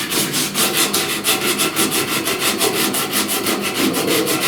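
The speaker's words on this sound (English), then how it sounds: "There's old paint out here. I gotta sand that off." Old paint is sanded by hand off a truck cab corner with a flat sanding block, giving rapid, evenly repeated rasping strokes that are loud and close, with no voices.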